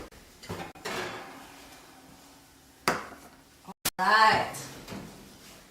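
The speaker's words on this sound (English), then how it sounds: "it's time to take them out of the oven" Metal muffin tray of banana muffins pulled from a kitchen oven: a few sharp clanks and thuds, an oven door scraping, and a brief loud metallic rattle, with a voice speaking briefly.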